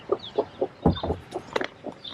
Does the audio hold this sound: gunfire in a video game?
no